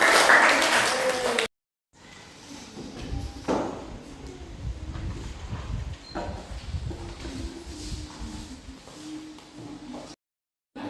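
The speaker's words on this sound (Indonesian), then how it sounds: "Oke, beri tepuk tangan." A classroom full of people claps together for several seconds, a dense spread of hand claps that swells and then fades away.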